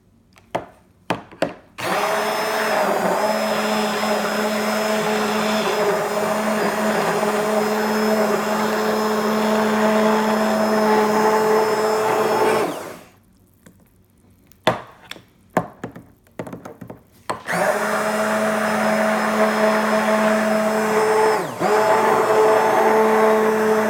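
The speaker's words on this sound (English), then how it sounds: "stir these up with a stick blender." A stick blender whirs loudly and steadily as it mixes cold process soap batter scented with lemongrass and tea tree, running in long bursts broken by a short pause and a few quick pulses before a final sustained run.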